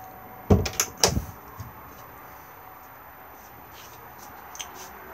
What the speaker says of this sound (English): if I open the door we can also gain access to the garage space.